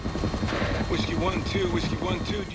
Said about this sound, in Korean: 한 군용 헬기가 뭐 별 궁금하지 않는 이유로 추락하게 되는데